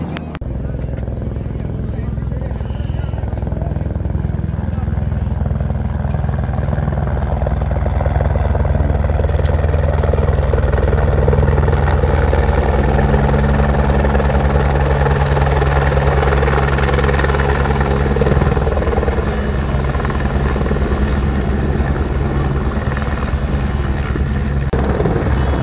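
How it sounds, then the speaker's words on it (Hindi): A helicopter at Kedarnath thunders loud and close, its steady rotor and engine drone holding for the whole stretch without letting up. "हेलीकॉप्टर चला गया"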